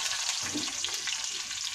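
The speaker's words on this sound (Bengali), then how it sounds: "এবার আগে থেকে কেটে রাখা পেঁয়াজগুলো এর মধ্যে" Chopped onions hitting hot oil with nigella seeds and panch phoron, a loud, steady close sizzle with faint stirring throughout.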